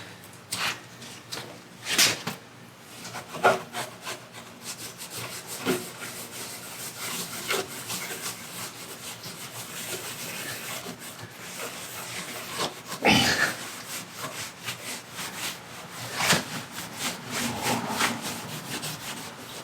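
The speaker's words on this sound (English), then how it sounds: "all the excess just comes off on your rag" A cloth rag rubs excess wood stain off rustic boards for a queen headboard, giving repeated soft scrubbing strokes with occasional sharper swipes, close and steady throughout with no talking.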